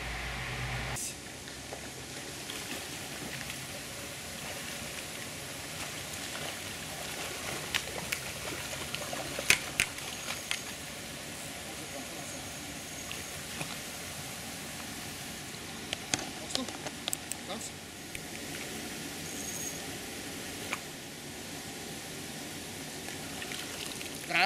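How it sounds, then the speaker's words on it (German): A small weir on a stream at night sends a steady, even rush of flowing water, with scattered splashes and clicks over it and no clear talk. "Die nächste Stelle, die wir jetzt probieren, ist im Hintergrund ein kleines Wehr."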